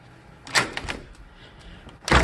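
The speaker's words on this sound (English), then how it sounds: "Then you can push this down, and the door will open," A door being unlatched and pushed open close by: a latch click and a few clunks, then a louder thud at the end, no voices.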